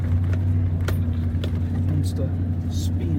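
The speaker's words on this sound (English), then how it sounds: "Trying to get the truck in 4-wheel drive where this grass is wet." A pickup truck in four-wheel drive labors on wet grass, its engine humming steadily up close as the wheels spin, with someone talking over it and small clicks and rattles scattered throughout.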